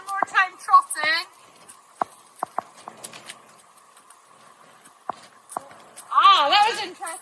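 A horse trots over ground poles, its hooves making sparse, sharp clip-clop knocks, with a voice talking at the start and the end.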